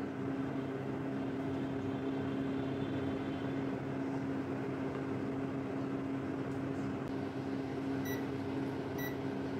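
A microwave oven hums steadily at a low, even level, and two short electronic button beeps sound near the end as it is set to cake mode. Nobody talks.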